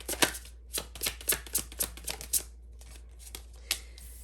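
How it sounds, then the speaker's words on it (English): A deck of cards is riffled several times in quick succession, crisp fluttering bursts, then a few slower, softer shuffles. "I shuffled this deck in the reverse"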